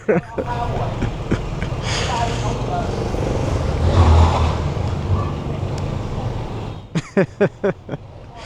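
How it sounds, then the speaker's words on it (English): A motorbike in Hanoi, Vietnam, revs and roars steadily during a wheelie attempt, swelling louder midway, then gives way to a quick series of sharp knocks. "he's gonna try doing a wheelie"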